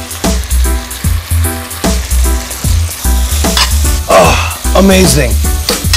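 Onions and thyme sizzle steadily while frying in a pan, a loud continuous crackle with stirring scrapes, as someone briefly speaks over it.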